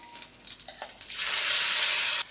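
Water from a tumbler poured into a pan of frying ground tomato paste for tomato chutney, a bright rushing hiss swelling after soft stirring clicks and holding steady for about a second before stopping.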